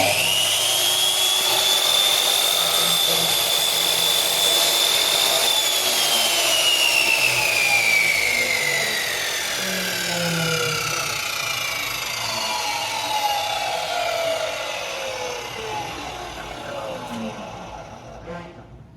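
A mitre saw spins up and runs at full speed with a high whine that holds, then sweeps downward as the blade slows; steady and close, with no talking.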